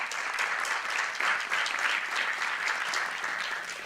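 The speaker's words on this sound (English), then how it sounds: "yep, you can clap for that." Dense, continuous applause from the audience at a school board public meeting, steady and moderately loud for about four seconds without speech.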